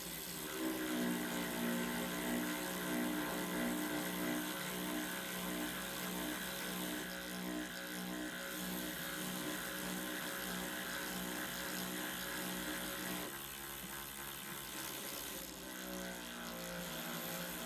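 A Hyper Tough and a Milwaukee 12V cordless ratchet whir together while driving socket-head Allen bolts with a 5/16 Allen socket, giving a loud, continuous motor whine with a shift in pitch partway through.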